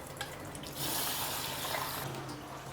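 Running water splashes over 100 grams of basmati rice as it is rinsed, a steady close-up gush that swells louder in the middle before easing, with no talking.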